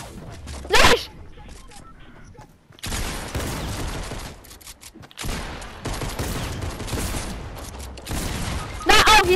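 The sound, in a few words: gunfire from the video game Fortnite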